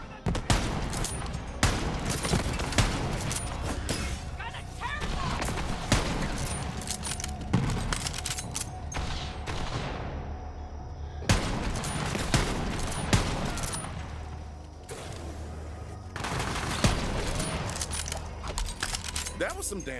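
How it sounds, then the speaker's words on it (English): Borderlands 3 gunfire keeps up nearly nonstop in rapid shots and bursts, loud and close, with short breaks between volleys and a voice talking over some of it. "That was some damn fine shooting."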